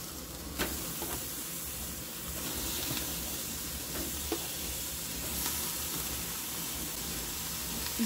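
Mocotó, cow's foot, cooking in a pan of sauce, a steady close sizzle and hiss with occasional soft stirring knocks, no one talking.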